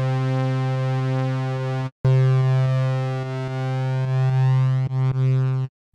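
Ring modulation synthesizer tone at a low, slow setting, a steady harmonic drone with little audible wobble, loud and alone, briefly cut by two short dropouts.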